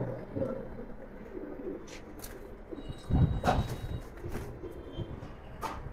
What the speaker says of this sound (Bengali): মাশাআল্লাহ খুব সুন্দর কবুতর